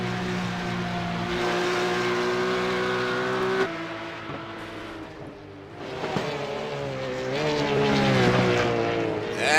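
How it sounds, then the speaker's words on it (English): A Porsche Cup race car accelerates uphill at Mount Panorama, its engine note climbing through the gears with brief lifts off the throttle, loud and close with no talk. "Just off the throttle, back on the throttle, shift up, just off the throttle a little bit, and then another fast left-hander."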